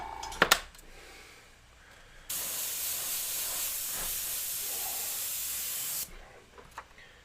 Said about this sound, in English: You can spray a couple times because you're just trying to make the illusion